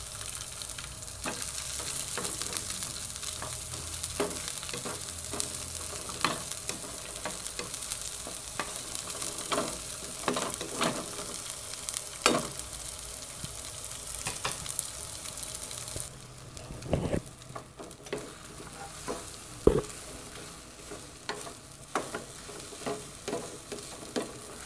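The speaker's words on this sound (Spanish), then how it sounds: "solamente los voy a saltear con un poquito de cebolla y luego le voy a agregar el huevito" Green beans sautéing with onion in a frying pan, a steady close sizzle broken by repeated utensil scrapes and stirs; the hiss drops somewhat partway through while the occasional clacks carry on.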